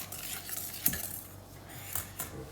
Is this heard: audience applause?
no